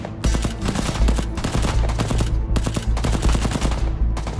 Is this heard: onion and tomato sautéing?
no